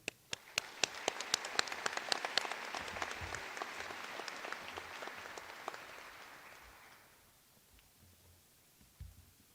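An audience at a medical school White Coat Ceremony applauds the incoming provost, dense clapping filling the room for about six seconds before thinning out and fading, with a couple of late claps at the end.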